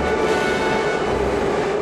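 A Moscow metro train rumbles through the underground in a steady, loud roar of wheels and motor, continuous and close, with no voices.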